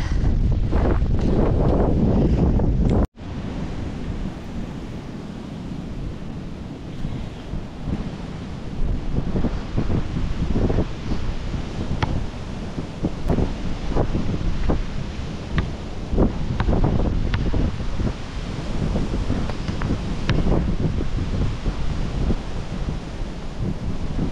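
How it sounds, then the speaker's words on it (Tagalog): Strong, cold New Zealand wind roars and buffets the microphone nonstop, with a sharp cutout near the start, then continuous gusty rumbling and sporadic thumps throughout. "Sobrang lakas ng hangin ngayon."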